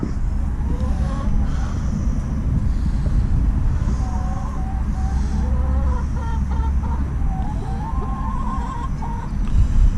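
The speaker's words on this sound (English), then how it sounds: "There's the chickens." Chickens cluck intermittently against a steady outdoor background rumble, fairly faint and at a moderate distance.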